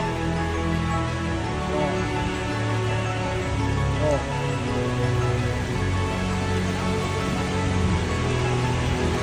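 Heavy monsoon rain and strong wind on an island make a dense, unbroken roar with a deep low rumble that stays loud and steady from start to finish.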